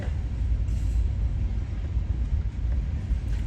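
A train passes at night on the streets of West Palm Beach, a steady low rumble and rolling rail noise heard close and continuous, with no talk during it.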